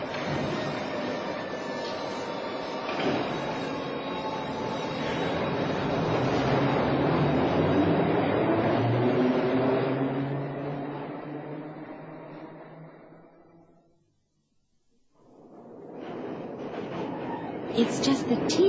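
An underground train rumbles and rattles through a tunnel, its roar building and then fading to near silence before another rush of noise begins.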